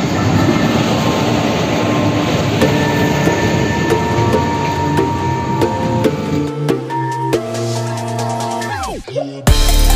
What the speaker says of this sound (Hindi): अब देखो, अलाउंस तो हो गया है कि ट्रेन आ रही है